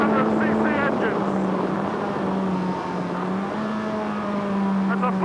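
Van Diemen Formula Ford race car with a 110-horsepower Ford 1600cc engine, a sustained buzzing engine drone holding steady pitch with brief rising sweeps, mixed with someone talking over it throughout.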